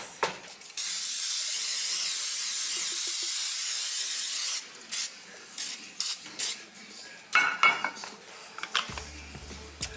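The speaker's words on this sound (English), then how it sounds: "we're gonna put this in this pan that I'm about to spray" Cooking spray is sprayed into a baking pan: a steady, loud aerosol hiss lasts for several seconds, then light clinks and handling of the pan follow, close by.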